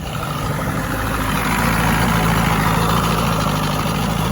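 A 1965 Evinrude Electromatic 75 hp outboard motor idling steadily after servicing, a continuous low droning rumble with a slight rise midway, close and fairly loud with no talking.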